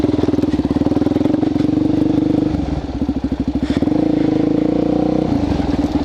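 A Suzuki DRZ400SM supermoto street bike thumps loudly along a loose, rocky woodland trail, its single-cylinder engine pulsing in rapid chugging bursts that ease off and pick back up, with rattling clatter underneath.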